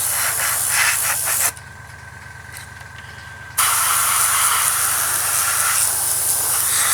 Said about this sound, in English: Spray it on nicely.